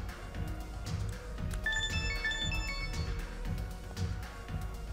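Mobile phone ringing with a melodic ringtone, a brief run of bright tonal notes in the middle of the clip, faint and distant over steady low background noise.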